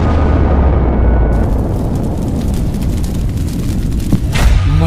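A nuclear bomb explosion sound effect: a loud, sustained rumbling roar that fills the whole clip, swelling with a harsher burst partway through and a few sharper cracks near the end, with no voices.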